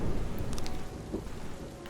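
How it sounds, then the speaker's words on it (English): Steady rain falls with a low rumble of thunder in the police-management game This is the Police, a dense continuous wash with no voices. "Ooh, it's raining."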